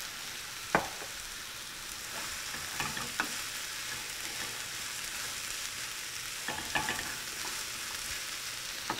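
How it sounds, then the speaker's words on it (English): Asparagus and onions frying in a pan as a side to apricot chicken, a steady soft sizzle with occasional spatula taps and scrapes scattered throughout. "now that our onions are starting to get nice and soft, we're going to add in our asparagus"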